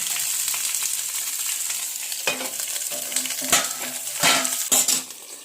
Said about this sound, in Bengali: এরকম করে সবগুলো আমি বসিয়ে নিয়েছি এবার যতক্ষণ না একটি ভাজা হয় আমি এটাকে ঢেকে দেবো